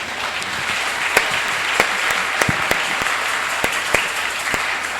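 Church congregation at a Pentecost Sunday service applauding the word of God, steady dense clapping from many hands filling the room, with a few louder individual claps standing out throughout.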